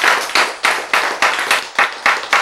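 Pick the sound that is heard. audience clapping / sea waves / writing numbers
audience clapping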